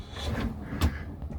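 A carpet-lined drawer in a self-built camper van slides shut on runners that are not smooth, ending in one short, close wooden knock partway through, with faint rubbing before it.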